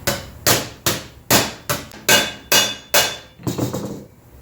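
Hammer blows bending sheet metal for a wheel tub on a 1973 Checker Marathon gasser, eight sharp ringing strikes at a steady rhythm, close and loud, with no talking.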